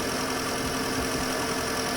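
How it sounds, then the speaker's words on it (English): Close, steady drone of a car engine idling while a battery tester runs its automatic check, on an Alfa Romeo Giulietta, Land Rover or Renault. An even, continuous rumble with a faint hum, unbroken for the whole stretch. "obviously the engine's running now"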